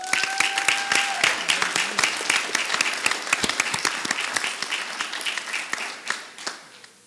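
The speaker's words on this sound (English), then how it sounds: "Let's have another round of applause for these children." An audience at a city council meeting applauds children, producing dense, continuous clapping that holds steady for several seconds before tapering off at the end.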